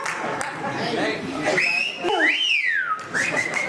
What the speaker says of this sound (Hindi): दो जोरदार सीटियां बजा दीजिए